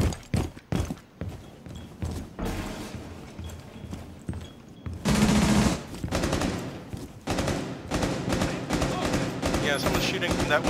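Gunfire in a tactical shooter match of Rainbow Six Siege on an Outback map, firing in rapid bursts and single shots of varying loudness from nearby, with players talking over it throughout.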